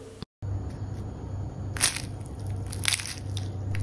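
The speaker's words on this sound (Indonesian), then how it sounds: "Bisa didengar ya, ini suaranya renyah banget, pinggirannya pun renyah" Close, crisp crunching as someone bites into a fried Indonesian pastel pastry, a couple of distinct crackly bites over a low steady background hum.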